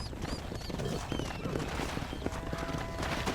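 Horse hooves clip-clop steadily amid outdoor noise in the video game Red Dead Redemption, with a horse whinnying faintly in the mix.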